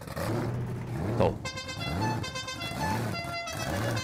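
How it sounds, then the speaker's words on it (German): Horn of a 1972 Chevrolet Nova in Farming Simulator 19, several short honks in a steady pattern over a low engine drone, with someone talking at the start. "Das ist unsere Hupe."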